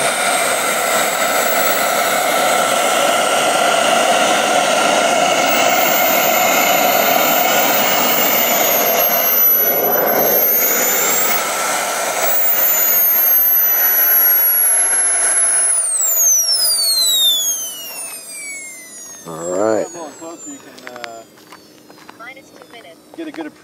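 A loud, steady jet engine roar and whine from a taxiing Bell P-59 Airacomet holds for a long stretch, then fades as the engine winds down and a voice speaks.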